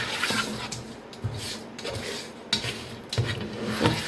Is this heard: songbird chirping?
no